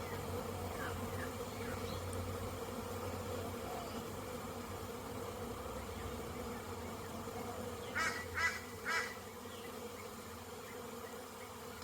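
Honeybees buzzing outside the hive during orientation flights, a dense continuous drone of many insects with a few louder passes near the end.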